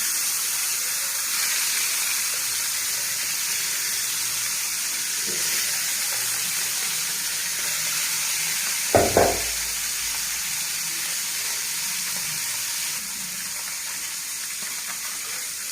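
Desi koi fish frying lightly in hot oil give a steady, even sizzle and hiss throughout, with a brief clatter partway through and no talking.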